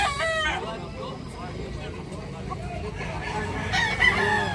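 Roosters crow at a busy Tabunok rooster market, a loud close crow at the start and another near the end, with clucking and a hum of crowd voices between.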